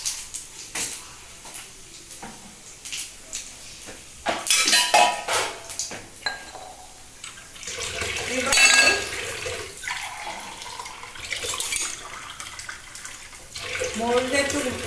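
Spices tempered with five-spice seeds are stirred in two pans on a stove, with intermittent metallic scraping and clinks of utensils against pans amid sizzling, in bursts over several seconds alongside other kitchen noise.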